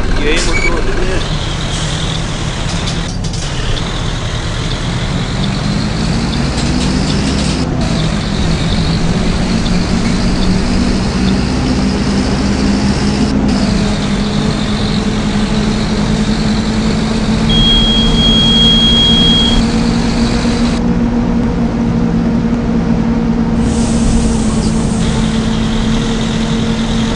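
In Proton Bus Simulator, the diesel engine of a Marcopolo Torino MB OF-1519 bus drones steadily and loudly, rising and falling slightly as it runs, with someone talking over it.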